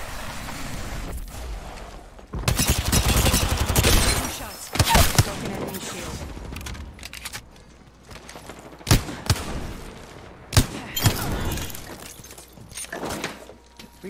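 Gunshots in Apex Legends ring out as sharp, loud cracks and bursts spread across the stretch, some in rapid clusters, with a voice speaking through parts of it.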